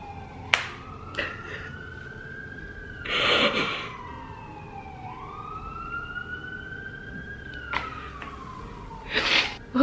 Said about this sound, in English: I hope that was a fire truck and not a police car.